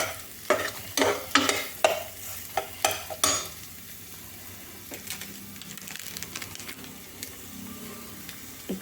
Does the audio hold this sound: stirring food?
yes